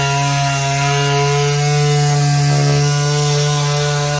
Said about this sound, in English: I'm gonna go over here to the 3M sander, run it over the edges just a little bit just to clean these up